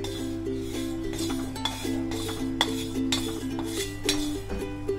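A spoon clinks against a pan while cumin seeds and ajwain dry-roast over a low flame, the light metallic taps scattered and irregular above a soft, steady hum.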